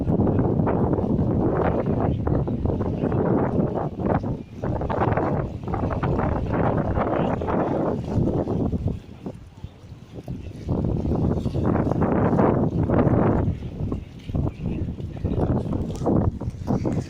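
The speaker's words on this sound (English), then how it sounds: "As you can see, it's very windy." Strong, continuous wind buffeting a microphone outdoors at the Pier Head by the Royal Albert Dock in Liverpool, England, with gusting roar and rumbling that barely lets up.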